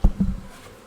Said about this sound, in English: First she takes hovering flights facing to the hive entrance, and then she makes wider and wider circles